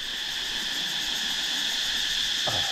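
Dense, steady high-pitched cricket chirring on a beach on Koh Phayam, Thailand fills the air without pause, a continuous night chorus at moderate loudness.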